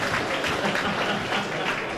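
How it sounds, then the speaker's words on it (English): Audience applause for racing legends at a car dealership event, a dense continuous burst of clapping from a crowd, steady and fairly loud throughout. "give them a big, big warm round of applause"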